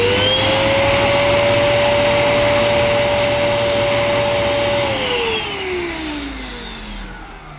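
Close, loud whine of a Zanussi AirSpeed Lite II bagged upright vacuum cleaner motor running steadily, then dropping in pitch and fading as it winds down at the end.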